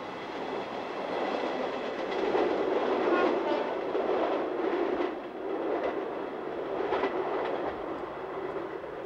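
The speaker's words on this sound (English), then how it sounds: "A train." A train rumbling past at steady speed, with rolling clatter of wheels on track that swells and eases over several seconds.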